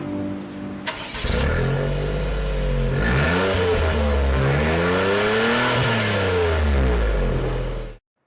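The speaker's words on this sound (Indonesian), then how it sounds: "yang keluar juga suara khas 3 silinder, namun tidak sesumbang 3 silinder biasa" A 2015 Daihatsu Copen's three-cylinder engine starts, then its exhaust revs repeatedly, pitch climbing and falling in several rises, loud and close before cutting off suddenly.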